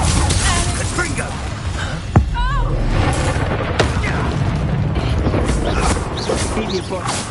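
Confringo blasting spell in Hogwarts Legacy, a sharp explosive boom at about two seconds, followed by rumbling magical crackle and whooshing under a dense, noisy game mix with a voice present.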